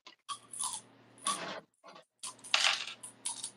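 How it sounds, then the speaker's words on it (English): Paper rustles and crinkles close by in several short bursts with brief gaps, handled during a casual morning rock and shell chat, with no voices. "Sorry about the paper noise."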